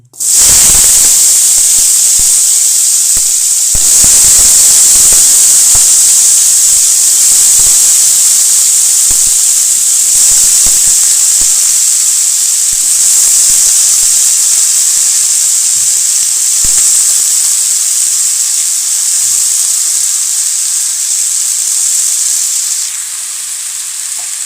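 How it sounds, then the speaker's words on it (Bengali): Cut potatoes hit hot oil in a kadai and start frying for alur dom, giving a loud, sudden sizzle that settles into a dense, steady hiss close to the microphone, with no talking. "কেটে রাখা আলুকে কড়াইয়ের তেলের মধ্যে দিয়ে দেব।"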